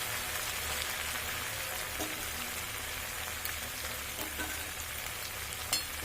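Spice masala sizzling in oil as tomato sauce goes in, a dense even frying hiss like rain with a few faint clicks and one sharp tap near the end.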